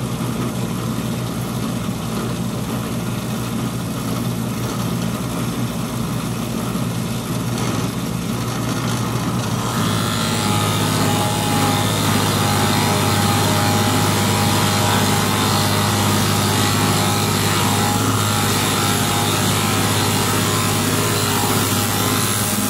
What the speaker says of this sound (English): So I just put a Forstner bit inside of my drill press